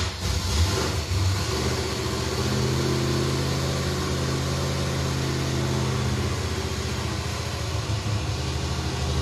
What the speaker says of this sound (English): Start the engine, Freiberger.